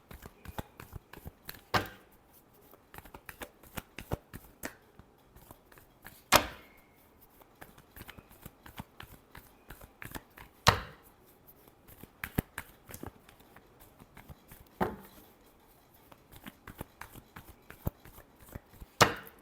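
Tarot cards being shuffled by hand, a steady stream of soft riffling flicks punctuated every few seconds by a sharper slap as the deck is squared, close and fairly quiet with no talking.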